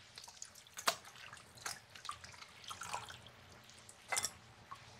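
Jute leaves being rinsed in water produce faint, scattered splashes and drips, a few sharper sloshes standing out against a quiet background.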